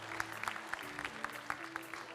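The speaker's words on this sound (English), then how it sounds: "please give a big round of applause for our moderator and speakers" People at a civil-military cooperation conference session applaud the moderator and speakers, moderately faint clapping that carries on throughout under a low hum.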